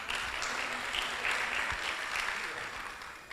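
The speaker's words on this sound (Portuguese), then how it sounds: "Uma salva de palmas também, por favor." An audience at a Fundação Getúlio Vargas communication school event applauds steadily throughout, a dense wash of clapping at even moderate loudness with no pause.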